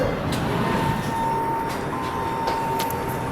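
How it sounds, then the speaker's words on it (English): A Pittsburgh red line light rail train rumbles and hums steadily at moderate volume near the Allegheny subway station, under a constant mechanical drone. "there's a red line train"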